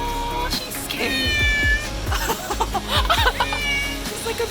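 A cat meows repeatedly outdoors in snow during a New York City snowstorm, several clear, close meows with short pauses, some drawn out, with faint voices and background noise around them.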